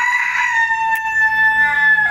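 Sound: chicken, rooster crowing

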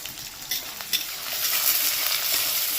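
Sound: onions frying in pan for mint chicken

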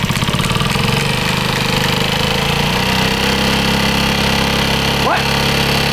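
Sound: Honda Ruckus moped engine cranking and running

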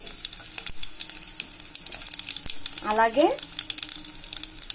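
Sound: tempering spices, dried chillies and ajwain frying in oil

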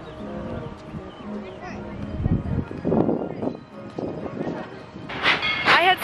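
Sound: Tweetsie Railroad train pulling out of the station

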